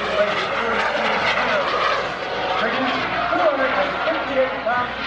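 A small aerobatic jet aircraft engine drones loudly and continuously overhead at an airshow while a person talks over the roar.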